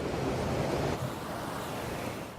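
Floodwater from the swollen Rogue River surging into a backyard in Shady Cove, a continuous broadband rush and roar with wind buffeting the microphone, no voices.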